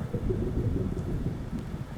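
A thunderstorm in the Static Dread video game is a low, continuous rumble of thunder under steady rain, heavy and even with no break.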